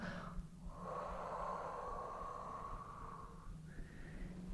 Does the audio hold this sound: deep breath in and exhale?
yes